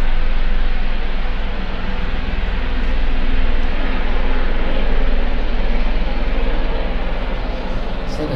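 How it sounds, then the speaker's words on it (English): A hospital helicopter flies overhead, a steady loud rotor and engine roar that fills the whole stretch without fading. "It's a hospital helicopter."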